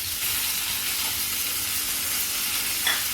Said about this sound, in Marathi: आता हा पापलेटसुद्धा आपण टाकूया तव्यावरती